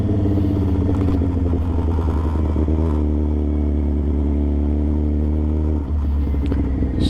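A motorcycle with a touchy throttle idles and revs unevenly up close, its engine rumbling loud and steady with small surges and dips throughout.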